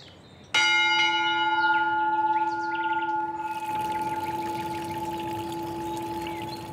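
A bell struck once at a Buddhist shrine rings out loud and clear, its long metallic tone sustaining and slowly decaying, with faint bird chirps and light background noise around it.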